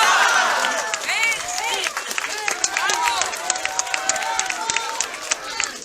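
Sustained crowd applause with scattered cheers and whistles, steady and dense throughout, heard from within the audience.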